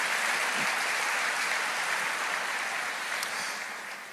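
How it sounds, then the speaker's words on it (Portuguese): Audience applause at a church sermon, dense sustained clapping from a large crowd that holds steady and tapers off toward the end. "Pode aplaudir."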